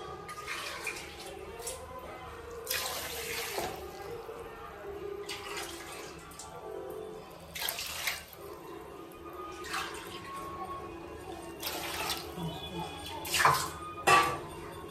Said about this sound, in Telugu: స్టవ్ ఆన్ చేసుకొని పంచదార పెట్టుకొని 4 గ్లాసుల వరకు వాటర్ యాడ్ చేసుకోవాలి